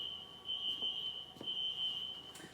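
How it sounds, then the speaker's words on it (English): A building fire alarm sounds with a steady, shrill high-pitched tone that holds through nearly the whole moment, broken by a couple of brief gaps, alone without talk. "There goes the fire alarm again."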